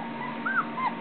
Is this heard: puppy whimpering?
yes